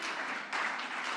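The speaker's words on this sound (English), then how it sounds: "Keisha clapping hard, because she's the one working with these people." An audience clapping during a Giving Day event for a fund, a brief dense patter of applause that swells slightly partway through.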